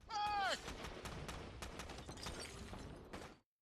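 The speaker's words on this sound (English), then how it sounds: "Gunfire erupts instantly." Gunfire erupts in a dense burst of rapid, overlapping shots, preceded by a high scream and continuing as a sustained crackling fusillade for a few seconds before stopping abruptly.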